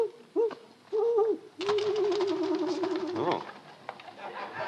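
Birds nesting in a chimney coo in low, wavering, repeated calls, some short and some drawn out, heard close and fairly loud with a brief human exclamation and faint household sounds.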